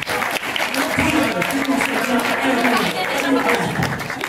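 Audience at a high school senior all-night party hypnotist show breaks into sustained applause, a full, even roar of many clapping hands with a voice talking over it.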